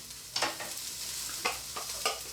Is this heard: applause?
no